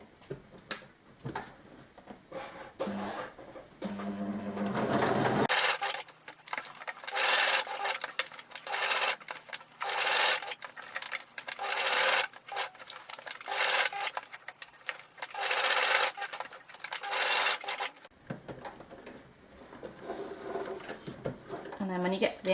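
A sewing machine runs a zigzag stitch along the seam of a tube skirt in steady bursts of rapid mechanical chatter with brief pauses, close and fairly loud, framed by a person speaking before and after.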